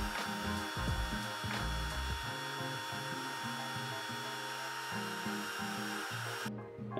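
A wood router makes passes along table legs for a live edge coffee table, a continuous high whine with shifting load and occasional thumps, close and loud.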